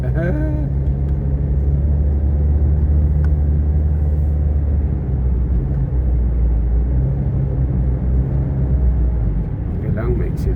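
Road traffic with cars driving past near sunset, heard as a steady low rumble of engines and tires close by, continuous for the whole stretch.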